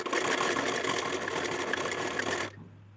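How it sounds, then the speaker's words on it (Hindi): A sewing machine stitches along a folded fabric strip for a blouse, a loud, fast, steady mechanical whir that runs continuously for about two and a half seconds, then stops abruptly, leaving a faint low hum. "मैं इसी तरीके से पूरी पट्टी को फोल्ड कर कर सिलाई लगा लूँगी"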